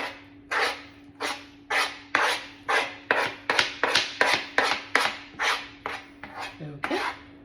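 Lemon zest and parmesan grated against a metal grater for a lemon alfredo, a steady run of about fifteen rhythmic rasping strokes, close and clear with no talk over them.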